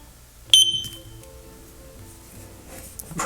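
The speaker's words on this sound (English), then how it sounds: "Press the sync button until you hear the beep." A EufyCam 2 wireless security camera gives a single short, bright beep when its sync button is pressed, followed by a faint tonal ring and quiet room noise.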